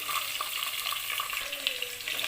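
Cardamom, cloves, pepper, curry leaves, onion and green chillies fry in hot oil for a simple tomato rice, a bright, continuous crackling sizzle with occasional stirring.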